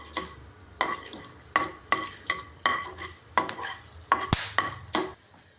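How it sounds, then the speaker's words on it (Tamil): A spoonful of black pepper fries in hot oil over a low flame, with a faint sizzle beneath rhythmic scraping strokes of a spoon stirring the pan, about one or two per second. "இந்த 1 ஸ்பூன் மிளகு எடுத்து வச்சுருந்தோம் இல்லையா, அதை வறுக்க போகிறோம்"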